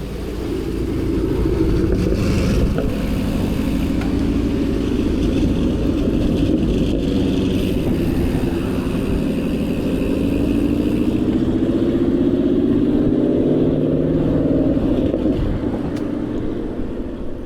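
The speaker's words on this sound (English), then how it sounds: "It's got to be timed so all three of these passing cars, ending with this black one in the rear, has the most dramatic impact." Several cars and motorbikes pass close by on a road in Japan, their engines rising and falling in overlapping sweeps over a continuous traffic drone, with no speech.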